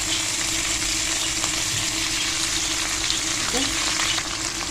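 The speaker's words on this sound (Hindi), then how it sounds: "और अब इन सारी चीज़ों को हमने अच्छे से फ्राई कर लिया।" Ginger garlic paste and chilli paste frying in a pan for lemon pepper chicken, giving a loud, continuous close sizzle with occasional stirring clinks, no talk.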